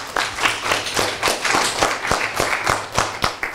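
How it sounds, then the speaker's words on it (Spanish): Schoolchildren at a school event clap together in a lively, slightly uneven round of applause, individual claps distinct and close, rising and settling in waves for a few seconds. "podéis dar un gran aplauso porque lo habéis hecho fantásticamente."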